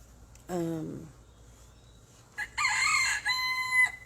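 A short rising note, then a loud nearby rooster crow with wavering pitch that stretches for over a second before cutting off.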